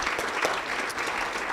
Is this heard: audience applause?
yes